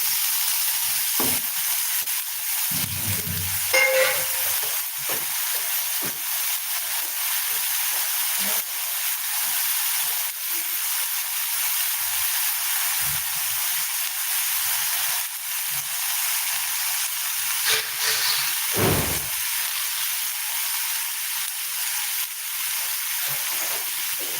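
Steady sizzle and hiss of onions sautéing in a pan with boiled moong dal in a home kitchen, a continuous frying crackle with occasional stirring scrapes and no talk.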